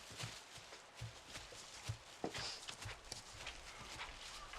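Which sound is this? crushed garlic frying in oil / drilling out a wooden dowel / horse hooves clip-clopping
horse hooves clip-clopping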